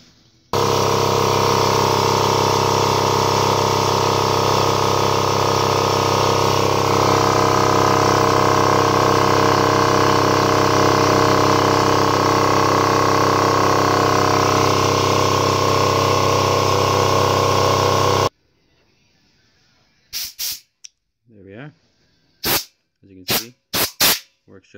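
An air compressor runs loudly and steadily for most of the stretch, a droning motor hum with a rhythmic pumping pulse as it fills its tank, then it cuts off and someone talks briefly over clicking handling noises.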